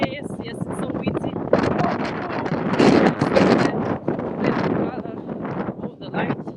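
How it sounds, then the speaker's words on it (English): Strong gusts buffet the microphone outdoors on Leningradskaya street near the Volga, roaring and rumbling in waves while a person talks over the blustery noise. "It must be very windy. Yes, yes, it's so windy."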